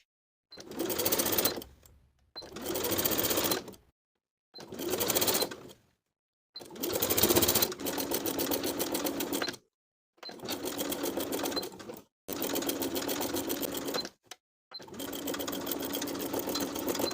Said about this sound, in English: I'm going to stitch in the ditch of the main collar seam, from notch to notch.